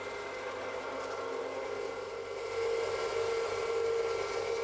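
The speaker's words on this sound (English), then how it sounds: "it's time to mill the Horopito leaves that have been drying for the last 5 days" Milling machine grinding dried Horopito leaves, a steady broadband whirring drone that holds throughout and grows slightly louder partway, with no talk.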